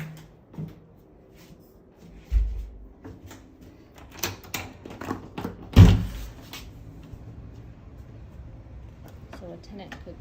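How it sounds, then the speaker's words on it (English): A door to the back of a house in Boulder, Colorado is opened and shut nearby, giving a few separate knocks and thuds with a sharp bang near the middle, over quiet room tone. "And I'll go out this door to the back."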